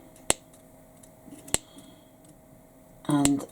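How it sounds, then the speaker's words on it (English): Scissors snipping fabric around the curve of a mini backpack, two crisp isolated snips a little over a second apart, close and clear, followed by a burst of talking. "And I just snip round the"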